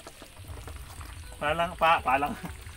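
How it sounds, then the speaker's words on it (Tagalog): Broth is poured into food for farm animals, a short liquid pour heard under a voice speaking, with the pour and talk swelling together in the final second. "sige, dagdagan ko pa ng sabaw"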